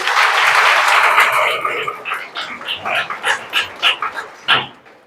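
An audience applauds a visiting devotional group at a home for blind people. Dense clapping fades after a couple of seconds into scattered, rhythmic claps, with voices mixed in.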